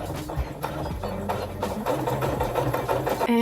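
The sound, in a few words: sewing machine stitching a shirring test at longest stitch length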